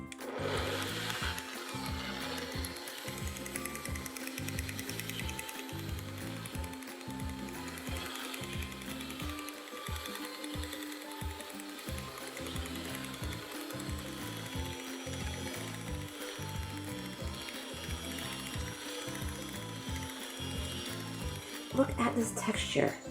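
Electric hand mixer whipping a thick instant vanilla pudding mousse filling, a loud steady mechanical whir with a regular rattling beat from the beaters, growing rougher near the end.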